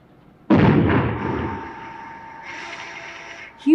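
An explosive charge blasts rock salt walls deep in an underground mine, a sudden loud boom followed by a long rumbling decay that echoes through the chamber.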